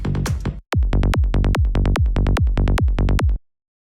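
A programmed psytrance rolling bass line made in Ableton, a rapid run of punchy, evenly spaced bass notes pulsing in a tight rhythm for about three seconds, preceded by a brief sustained tone, alone with no voice.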